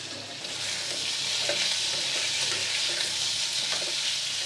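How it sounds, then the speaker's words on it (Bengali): Fried eggplant dusted with Kashmiri chili powder sizzles steadily in a pan while it is stirred, with soft scraping scuffs over a continuous hiss and no voices. "ভালো করে নেড়ে দেবো"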